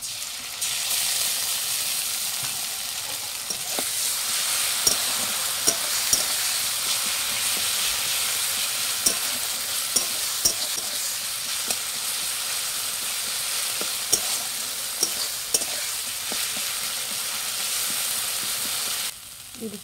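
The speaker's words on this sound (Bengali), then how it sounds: "দিয়ে দিচ্ছি বেটে রাখা মশলা" A ground spice paste fries with onions in a pan, giving a steady loud sizzle and hiss with scattered soft scrapes and taps from stirring, no talking.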